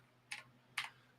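Two quick, sharp clicks from a computer keyboard sound about half a second apart, close and faint in a quiet room.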